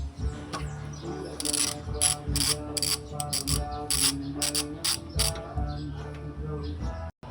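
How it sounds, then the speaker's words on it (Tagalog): 12mm box wrench loosening a nut on a twin tub washing machine spin dryer, a string of close metallic ratcheting clicks in irregular bursts with a steady hum underneath. "Ngayon ay gagamit tayo ng 12mm na box wrench. Para yan sa luwagan muna yung nut."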